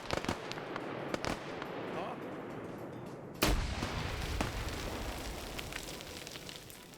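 Frag grenade exploding in a military multiplayer video game set at the Siege of Jadotville, one loud sharp blast midway amid scattered gunfire cracks, with voices talking throughout.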